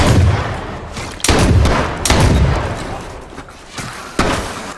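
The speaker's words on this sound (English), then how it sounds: "Oh my gosh, he shot me." Gunfire in the video game H1Z1, several heavy booming shots spaced irregularly across a few seconds, each with a thudding low tail, loud and close, with voices talking underneath.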